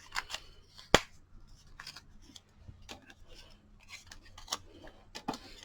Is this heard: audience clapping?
no